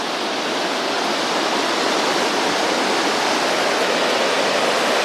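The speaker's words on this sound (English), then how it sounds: "And then the waterfalls." Broad, steady rushing roar of waterfalls near a bridge on a road among sweeping hills by Diablo Lake in the Pacific Northwest, a dense even wash of falling water with no voices.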